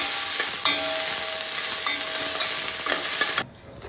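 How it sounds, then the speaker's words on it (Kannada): Onion and ginger fry for a fish sambar, a loud, close, steady sizzle with scattered stirring scrapes and taps, cutting off sharply just before the end; no voices. "ಶುಂಠಿ ಈರುಳ್ಳಿ ಎಲ್ಲ ನೀಟಾಗಿ ಫ್ರೈ ಆಗಬೇಕು, ಕಲರ್ ಚೇಂಜ್ ಆಗಬೇಕು, ಅಲ್ಲಿ ತನಕ ಫ್ರೈ ಮಾಡ್ಕೋಬೇಕು"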